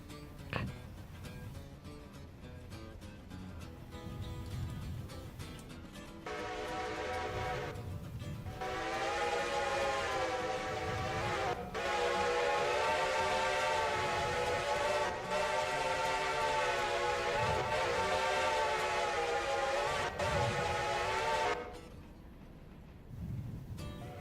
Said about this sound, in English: Meanwhile, we're following the passenger train.